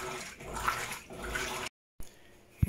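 An Electrolux LED15 washing machine washes a blanket, giving a steady sloshing, churning water sound with rhythmic surges, then a brief silence before the drum noise resumes and a short thump ends it.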